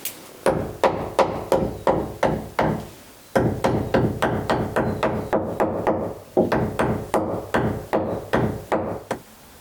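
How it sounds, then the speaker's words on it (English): A hammer pounds the wooden planks and floors of an old boat, loud close blows in quick rhythmic bursts with short pauses between runs, each strike sharp and ringing slightly against the hull. "I'm just hitting the boat with a hammer and expecting something to jump out at me"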